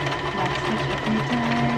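A sewing machine runs steadily while back stitching fabric, a close, continuous mechanical whir with a rapid needle rhythm and no pauses.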